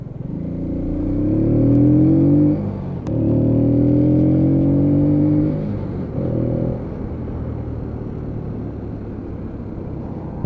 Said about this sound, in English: I do love the sound of that exhaust on this.